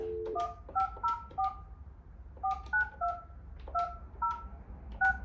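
Telephone keypad tones as a number for a car dealership is dialled: a crisp series of short, evenly spaced two-pitch beeps in small bursts, heard alone over a faint low hum.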